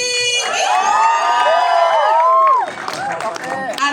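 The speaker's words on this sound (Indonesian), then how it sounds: "boleh kita berikan tepuk tangannya" Loud crowd cheering and applause at a film press conference and screening, with shouts and whoops sustained over a dense, close roar that eases slightly near the end.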